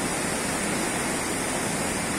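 Mountain river water flowing at the source of the Cali River in Colombia, a steady dense rushing wash with no breaks, close and fairly loud, with no voices.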